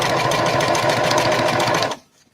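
A sewing machine runs at a steady buzzing whir while stitching a bucket hat seam, close and loud, then stops abruptly near the end.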